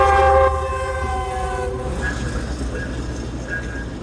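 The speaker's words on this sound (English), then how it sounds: "Comes the fucking train." A train passing close by sounds a loud, steady horn blast, then settles into a continuous rumbling roar with faint tonal squeals as the cars roll past.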